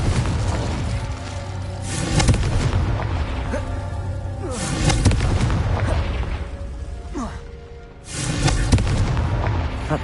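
Confringo blasting spell explosions in the Hogwarts game, heavy booming blasts with rumbling tails, a big burst near the start and another around eight seconds, over continuous game background sound.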